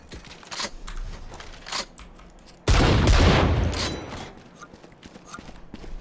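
Gunfire in the Valorant video game, scattered light clicks followed by a sudden loud burst of rapid shots lasting about a second and a half, then tapering off.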